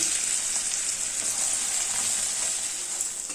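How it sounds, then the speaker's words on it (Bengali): Two medium onions, finely chopped, frying in oil over a low gas flame, with a steady, close hissing sizzle throughout and no voices. "গ্যাসের ফ্লেম লোতে রেখে পেঁয়াজ হালকা লাল লাল করে ভেজে নেব"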